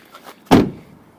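The driver's door of a Mazda MX5 Miata opening, a single short thunk in a quiet setting, close and fairly loud.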